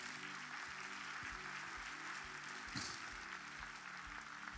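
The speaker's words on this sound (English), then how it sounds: "give the Lord a hand clap today" Church congregation giving a round of hand claps during a sermon, a distant, even wash of applause with a brief louder burst near the middle, no voices over it.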